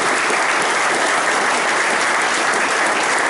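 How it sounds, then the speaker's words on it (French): Loud, sustained applause from a crowd at a speech in Cayenne, French Guiana, a dense wash of clapping with no pauses throughout. "Des gens comme Servet, Alfonsi, que je vous demande d'applaudir fortement aussi"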